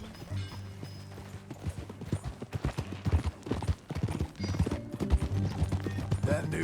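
Steady rhythmic hoofbeats of a horse being ridden at a walk in Red Dead Redemption 2, close and clear, with ambient game sounds and brief voices woven in.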